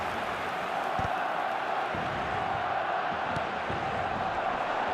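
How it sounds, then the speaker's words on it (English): A steady wash of eFootball video game stadium crowd noise fills a large space, with distant cheering and applause that stays even, without sharp peaks. "a lot of applause for the thought"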